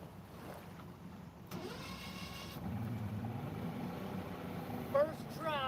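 A two-stroke outboard boat engine catches on the first pull and settles into a steady running drone, with people talking and a short cheer over the motor.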